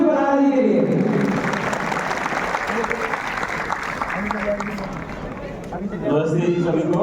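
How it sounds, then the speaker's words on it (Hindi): A seated audience at an Indian stage event claps loudly for two guests, Dr. Devendra Barahra and Yashasvi Barahra, a dense sustained applause with voices mixed in and speech rising near the end. "तो एक बार जोरदार तालियां डॉक्टर देवेंद्र बराहरा जी और यशस्वी बराहरा जी के लिए।"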